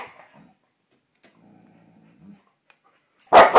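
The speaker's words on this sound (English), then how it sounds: "You stop barking" Faint low growls and soft whimpering noises give way to a sudden loud, close bark near the end.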